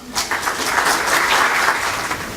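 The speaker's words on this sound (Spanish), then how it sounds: "Le damos una bienvenida con aplausos," An audience at a lean construction conference applauds to welcome a speaker, a dense, steady burst of clapping lasting a couple of seconds.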